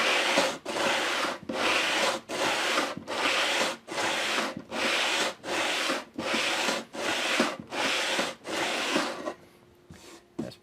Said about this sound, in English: We're going to sand this a little bit.